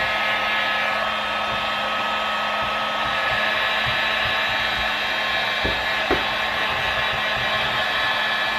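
A heat gun blows a steady, loud whirring stream of hot air onto car trim to soften the glue, with a couple of faint clicks near the end.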